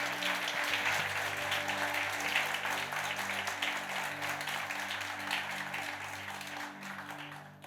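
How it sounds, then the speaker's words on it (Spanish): A church congregation applauding during a sermon: sustained, dense clapping at moderate distance with a steady musical tone underneath, slowly fading toward the end. "Si le va a aplaudir, apláudale."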